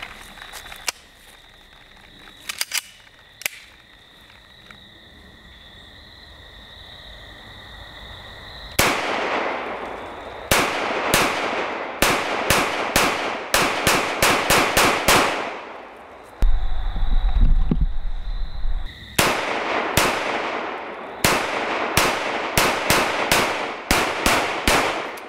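Gunshots from a handgun fired double action, a sharp isolated report or two early on, then repeated loud, close shots in quick clusters, with a low rumble between volleys.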